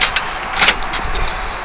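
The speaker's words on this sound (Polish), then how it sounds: "Zamykamy to, tu mamy taki kluczyk." A key turns in the lock of a compartment on a food tanker truck, giving a few brief metallic clinks and rattles up close.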